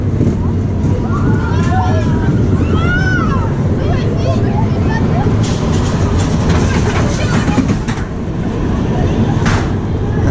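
A roller coaster train at Parc Astérix rumbles loudly along its track into the ride's final section, a dense continuous roar with clattering wheels and riders talking and shouting over it.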